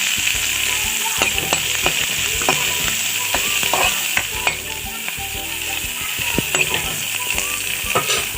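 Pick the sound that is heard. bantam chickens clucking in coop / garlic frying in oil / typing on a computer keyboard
garlic frying in oil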